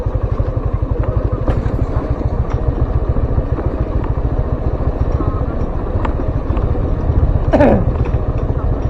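A motorcycle engine braking down a hill makes a loud, close, steady chugging pulse, with a voice talking over it.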